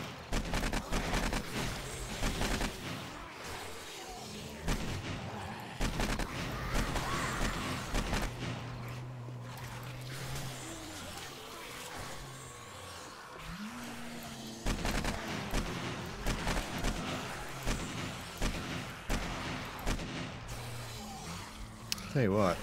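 Guns firing at zombies in the survival game 7 Days to Die during a large horde wave, with bursts of shots and rapid fire mixed with game noise and someone talking over it.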